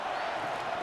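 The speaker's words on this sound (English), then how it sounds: "This crowd doing all they can." Stadium crowd at an NFL preseason game between the Cleveland Browns and Philadelphia Eagles, a steady, dense roar of many voices that holds at an even level throughout without any single shout standing out.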